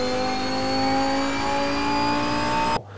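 A race car engine roars at a high, steady pitch in the Assetto Corsa racing game, and then it cuts off abruptly near the end.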